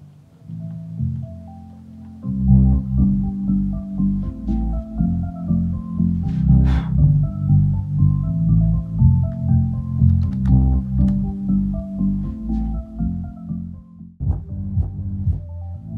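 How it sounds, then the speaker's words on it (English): Deep, boomy bass-heavy music plays through a Harman Kardon HK595 subwoofer alone, with muffled thumping beats and little treble, steady and fairly loud. "What you are hearing right now is only the subwoofer."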